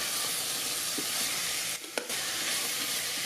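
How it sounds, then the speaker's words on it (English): Onions, garlic, ginger and green chilies sizzle steadily in oil with whole spices in an Instant Pot Duo Mini, a constant close frying hiss with a faint clink of stirring partway through. "Saute until golden brown."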